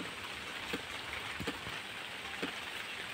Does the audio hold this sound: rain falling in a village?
yes